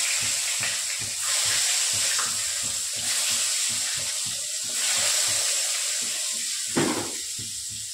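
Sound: frying eggplant slices in a pan

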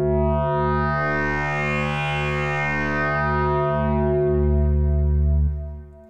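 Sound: processed sound with added reverb

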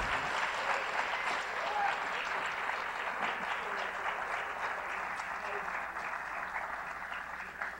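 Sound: applause

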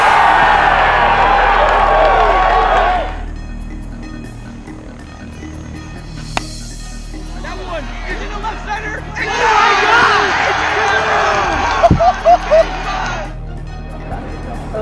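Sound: stadium crowd cheering and chanting at wiffle ball game

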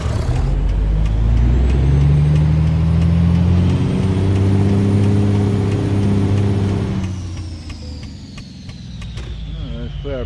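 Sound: truck braking in video game American Truck Simulator

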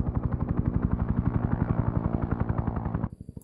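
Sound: helicopter approaching in video game S.O.G. Prairie Fire

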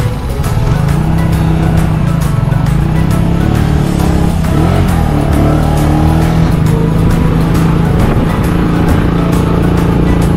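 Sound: tricycle driving on a road trip

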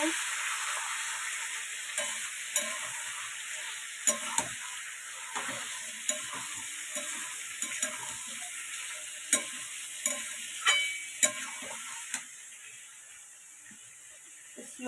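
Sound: chicken meat being stirred and fried in a pan

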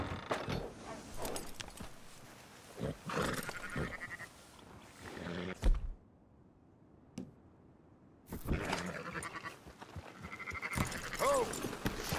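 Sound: sheep bleating in Red Dead Redemption 2 video game

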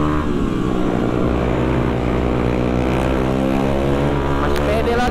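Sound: motorcycle riding and cornering

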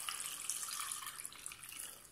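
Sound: water poured into cooking pot

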